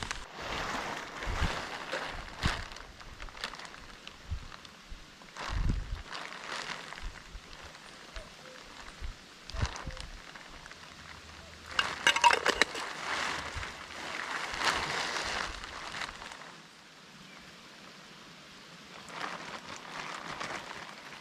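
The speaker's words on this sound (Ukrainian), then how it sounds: "може перечекаємо цей дощ і вже поїдемо до хати" Rain falls on a marsh in patchy waves of soft patter, swelling and fading, with occasional nearby knocks and thumps; fairly faint and without speech.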